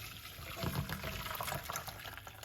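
Brewed weight-loss tea poured through a favorite kitchen strainer, a short close splashing trickle of liquid that swells briefly in the middle and then tapers, with no voices.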